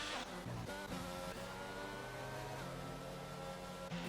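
Close, loud engine of an Aston Martin safety car in a racing game around the Azerbaijan circuit. It revs steadily, with brief gear-change dips near the start and a mid-pitched drone held throughout, and nobody speaks.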